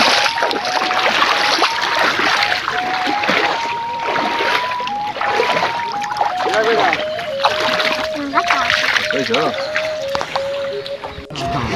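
Fast floodwater current in a flooded wetland in Jamalpur rushes and splashes continuously, a dense loud wash with a steady tonal hum running through it and a voice talking over it.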